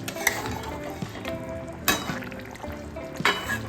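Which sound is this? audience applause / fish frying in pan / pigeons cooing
fish frying in pan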